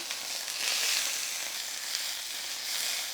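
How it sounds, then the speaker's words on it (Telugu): Sliced okra sizzles in hot oil in a pan, a continuous loud crackling hiss with slight swells, close up and without talk. "నూనె కాగిన తర్వాత నేను డైరెక్ట్ బెండకాయలు వేసేస్తున్నా"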